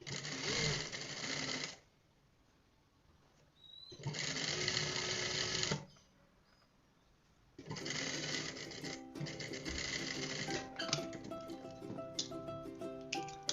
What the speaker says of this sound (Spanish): continuamos cosiendo por el costado, respetando el margen de costura